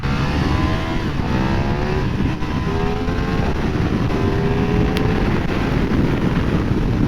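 A KTM 1390 Super Duke motorcycle accelerating hard, engine pitch climbing through gears under heavy wind rush, loud and continuous from onboard.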